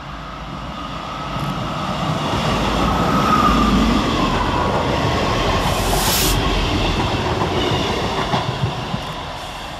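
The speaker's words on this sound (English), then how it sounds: "Coming down the hill for East Midlands Railway is 158770 and 158865" East Midlands Railway class 158 diesel trains rolling down a hill through Woodsmoor station, a rumbling approach that swells to a loud pass with wheel squeal and clatter midway, then eases off; no voices.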